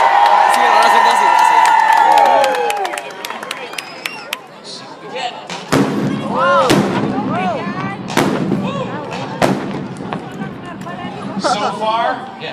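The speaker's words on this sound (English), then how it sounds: "Are you ready for the wall of fire?" Wall-of-fire pyrotechnic explosions go off at the Miramar air show as several sharp, booming blasts scattered over several seconds, under an announcer talking loudly over a crowd.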